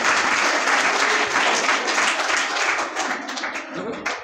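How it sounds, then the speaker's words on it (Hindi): Audience applause at a career counselling seminar, a dense, steady burst of many hands clapping for about four seconds, loud and close, tapering slightly near the end with faint voices underneath. "ताली मारो इसको नाम की।"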